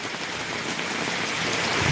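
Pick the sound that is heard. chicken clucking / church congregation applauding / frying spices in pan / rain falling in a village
rain falling in a village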